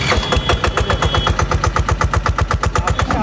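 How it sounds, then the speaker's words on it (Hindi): A single-cylinder Massey Ferguson 511 tractor engine thumps close by in a fast, steady rhythm of sharp, evenly spaced pulses that continues without a break. "ट्रैक्टर की आवाज़ भी सुन के देखेंगे, सिंगल सिलेंडर है"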